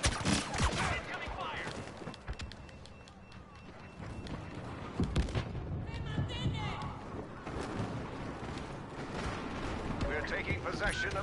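Heavy incoming weapon fire in a Star Wars Death Star video game, dense volleys of blasts and booming impacts rolling on continuously with voices talking over the din.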